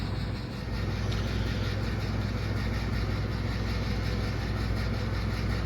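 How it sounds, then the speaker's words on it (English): A starter motor spins on an Ultima 113 chopper engine under construction, a steady loud whirring drone that holds evenly for several seconds, close by with no voices. "test starter number 1. Well, starter spun."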